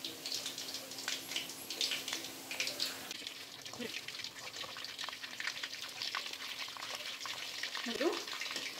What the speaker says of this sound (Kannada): ಎಲ್ಲ ಚಿಕನ್ನು ನಾವು ಮಾಮೂಲಿ ಕಬಾಬ್ನ ಯಾವ ರೀತಿ ಡೀಪ್ ಫ್ರೈ ಮಾಡ್ಕೊತೀವಲ್ಲ ಹಾಗೆ ಮಾಡ್ಕೊಂಬಿಡೋಣ